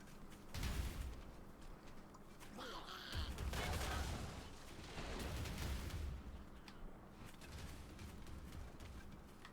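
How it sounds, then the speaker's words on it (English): Artillery cannon shelling in the strategy game Tooth and Tail: dense, continuous battle noise with repeated booming blasts and crackling fire over a busy layered mix, fairly loud throughout. "this artillery cannon's starting to shell down against Space Nut here"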